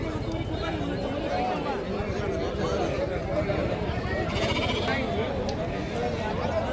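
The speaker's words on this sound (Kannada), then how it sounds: "ಎಲ್ಲ ಮರಿ ಕುರಿ." Lambs and sheep bleat repeatedly at the Honnali sheep market, amid the continuous murmur of a crowd of people talking nearby.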